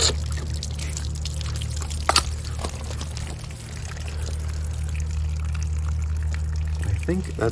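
Water pours steadily into the tank of a 1946 Farris Banks-Morse hit-and-miss engine, a continuous close trickling under a low background hum, with one brief knock partway through.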